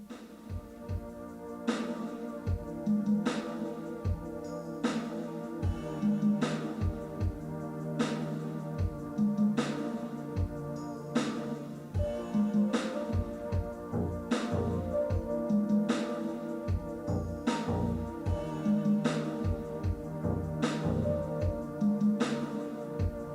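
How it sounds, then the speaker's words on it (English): Synthesizer played through loudspeakers in a room and picked up by microphones with only early reflections, giving a steady pulsing pattern of low tones and regular rhythmic hits at moderate level throughout, with no talking. "Now here's the sound of the synthesizer through the speakers in the room as heard by the microphones."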